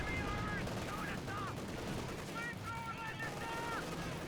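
Rapid MG42 machine-gun bursts in the Company of Heroes 2 strategy game, steady and dense throughout, layered over other battlefield effects and brief game chatter.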